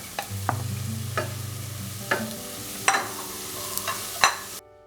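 Chopped tomatoes stirred into a ladies finger (okra) stew in a pot, several sharp scrapes and knocks of a spoon over a low hum and light sizzle, close by with no talking.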